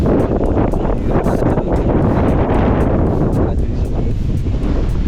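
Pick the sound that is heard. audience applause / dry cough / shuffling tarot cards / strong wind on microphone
strong wind on microphone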